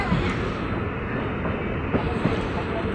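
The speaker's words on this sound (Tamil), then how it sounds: "ட்ரெயின் வந்து இறங்க போகுது" A train crosses the Pamban railway bridge, rumbling steadily with a continuous low roar and faint rhythmic clatter, loud and close throughout.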